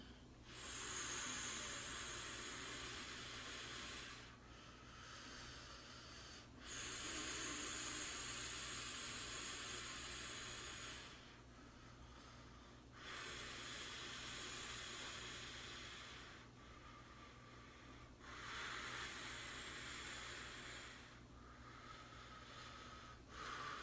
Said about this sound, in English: We're going to take a few deep breaths together